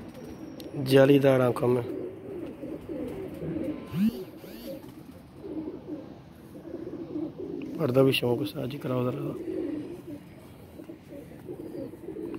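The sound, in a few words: pigeons cooing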